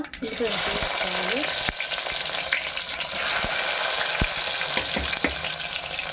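Cumin and mustard seeds fry in hot oil for a curry, giving a loud, steady crackling sizzle throughout with scattered sharp pops and light stirring scrapes, no voices.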